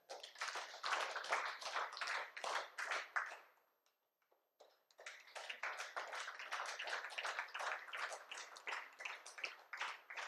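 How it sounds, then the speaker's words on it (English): An audience at a workplace emotional-wellbeing talk in India claps together on cue, a dense, sustained burst of hand claps that breaks off briefly midway, then resumes just as strongly until the end. "Let's clap."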